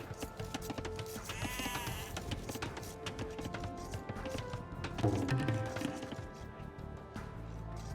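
Sheep bleat in a real-time strategy game over busy in-game ambience with light tapping and movement sounds, the loudest bleats coming partway through.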